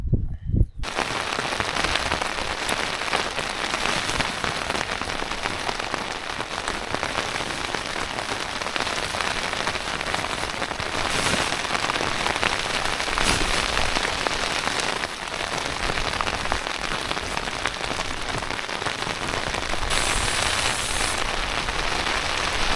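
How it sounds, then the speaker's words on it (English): Heavy rain pours in a rainstorm during a bikepacking trip, a loud, steady, close hiss of drops hitting surfaces that continues without a break. "I think I'm in a rainstorm."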